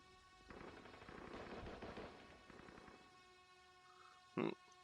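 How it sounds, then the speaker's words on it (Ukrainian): Faint rapid bursts of gunfire from FPV Battleground, a kamikaze drone simulator game, rattle for a couple of seconds, then a short sharp blast near the end. "Ну, звуки пострілів є."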